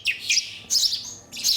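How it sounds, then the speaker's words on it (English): Starling nestlings in a nestling room give shrill, high chirps in three short bursts, close and clear against a quiet background. "Starlings are the noisiest residents in the nestling room."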